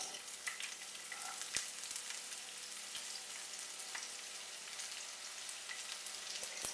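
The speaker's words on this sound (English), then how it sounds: "While the onions are sizzling" Onions fry in a pan with a steady, fairly soft sizzle, broken by scattered crackles and occasional sharp pops, with no voices.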